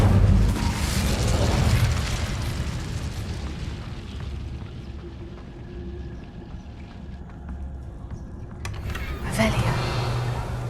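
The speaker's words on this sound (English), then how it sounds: "Incendio." Incendio fire spell cast in Hogwarts Legacy, a loud roaring burst of flame that swells and sustains over a rumbling low layer, with a fresh whoosh near the end.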